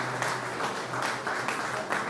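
Political council members applaud as a president takes his seat at an inaugural national session, a dense wash of distant crowd clapping that pulses in waves, fairly quiet and continuous without talk.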